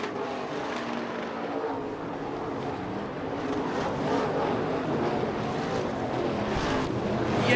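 IMCA race cars roaring around the Central Arizona Raceway dirt oval in Casa Grande, a dense continuous engine drone from the field at a distance, swelling slightly as cars push down the back straightaway.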